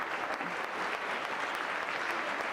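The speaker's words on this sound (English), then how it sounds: "go ahead, give him applause" Steady applause from a conference audience at a CEO panel event, dense clapping filling the room evenly throughout without pauses.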